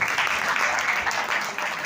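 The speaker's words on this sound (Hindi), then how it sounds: "तालियां बजाओ इनके लिए।" Applause from a crowd, steady and dense clapping filling the whole moment, loud and close, with faint voices underneath.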